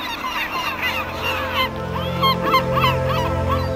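Several yellow-legged gulls call over a garbage dump, loud overlapping honking cries that come thicker and more insistent toward the end, close by with no talk.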